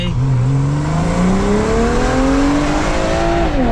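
A BMW M340 with an adjustable Euro Arts aftermarket exhaust revving loudly and steadily outside, its deep exhaust note rising in pitch as the throttle climbs, close and constant.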